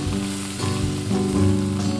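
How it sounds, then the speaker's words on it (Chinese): Shredded potatoes, rinsed of starch and dusted with dry starch, deep-fry in moderately hot oil over medium-low heat, giving a dense, continuous crackling sizzle that swells in bursts with no talking. "下入5成热的油锅中，中小火炸至变色定型"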